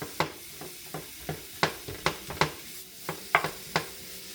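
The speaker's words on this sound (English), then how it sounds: "you can hear it sizzling already" Moose meat for goulash cooks on low heat in a dry, oil-free pan, giving a faint sizzle broken by sharp, irregular clicks and taps from stirring.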